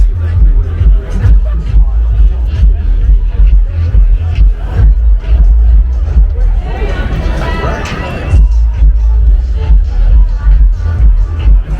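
Crowd of fans heading to their seats at the Indianapolis 500, a steady close hubbub of overlapping voices and shuffling footsteps, with a louder, busier burst of chatter midway and low traffic rumble underneath throughout.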